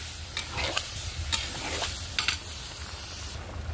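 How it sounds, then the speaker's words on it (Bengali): Boiled peas are stirred into a sizzling potato masala for ghugni in a pan, with a soft ongoing fry hiss broken by a few scraping strokes of the spoon, fairly quiet and close. "এবার আমি সেদ্ধ করে রাখা মটরটা এর মধ্যে দিয়ে দেবো, দিয়ে ভালো করে নেড়ে নেবো"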